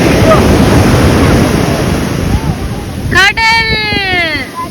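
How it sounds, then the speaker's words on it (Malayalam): Sea waves and surf roll onto a beach amid steady wind buffeting, a broad continuous wash with a voice rising briefly near the end. "കടൽ"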